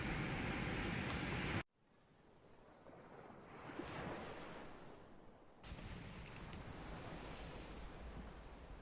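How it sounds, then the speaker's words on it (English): Ocean waves at Wreck Cove at night surge and rush in a steady roar, dropping abruptly to a softer wash before swelling loud again. "head to bed for the night to the sound of these waves"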